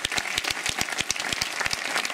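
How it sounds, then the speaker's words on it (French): A crowd applauds at a cycling jersey presentation, dense rapid clapping carrying on steadily throughout at moderate loudness. "Applaudissements, musique."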